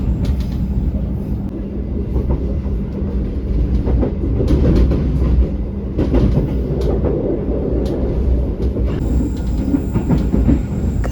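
Inside an executive class train carriage on a morning run toward Ketapang, Banyuwangi, a continuous rumble of rolling wheels and rail clatter fills the cabin, with occasional clicks and faint squeals over the steady low drone.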